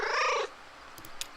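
A single cat meow, drawn out and warbling, comes from a cat in Kentucky Route Zero and is loud and close, followed by faint soft clicks.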